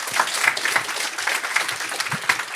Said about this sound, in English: A round of applause for the Future of Work team.